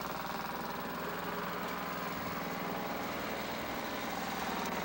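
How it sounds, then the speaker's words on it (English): A lawn mower engine runs steadily and close by throughout, a constant mid-pitched drone with a faint rhythmic knock and vibration and no voices. "we witnessed the first time the lawnmower was officially shut off after doing its first yard"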